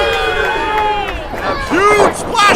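A wrestling crowd at a Golden Road show roars and cheers for El Rey, a loud sustained mass of voices with rising chants and whoops, partly under a commentator's talk.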